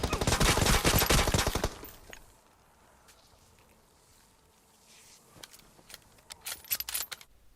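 Automatic gunfire in the video game PUBG Mobile, a loud rapid burst up front, then a quiet stretch with a few scattered shots and clicks.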